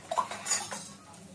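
Metal tongs handle and turn a metal kadhai, giving a few close clinks and scrapes of metal on metal, then quieter scraping, with no talk.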